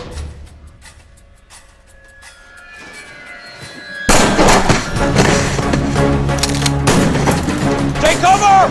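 Heavy gunfire bursts out in an action movie battle scene, loud dense volleys of shots and booms filling the sound after a quieter stretch of ambient noise and music, with shouting voices mixed in.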